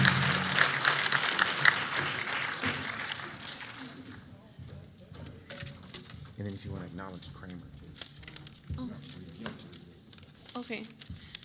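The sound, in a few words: audience applause at awards banquet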